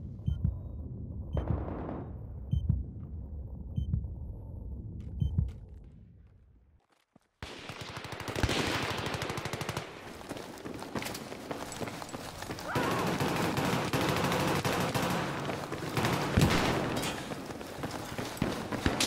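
Battlefield 3 Rush gunfire on Operation Metro, dense bursts of rifle and machine-gun fire that keep going after a brief quiet gap, loud and close, with scattered voices underneath.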